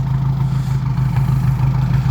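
Tractor engine running steadily in rainy weather, a continuous low, even drone with a faint mechanical clatter, heard close and alone.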